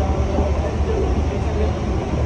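Metro trains pass with a loud, continuous rail rumble and rolling wheel noise, steady for the whole stretch, with no clear speech on top.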